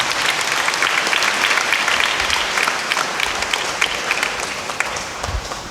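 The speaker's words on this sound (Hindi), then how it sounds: "आइए हम जोरदार ताली बजाकर उनका धन्यवाद करें" Audience applause at a school novena prayer service, steady dense clapping from a crowd filling the whole stretch, loud and continuous with no talk over it.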